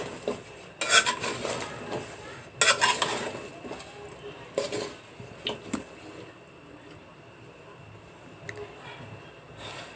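Bottle gourd with shrimp and lentils is stirred in a metal pot, producing several sharp clanks and scrapes of a spoon against the pot in bursts, followed by softer quiet stirring.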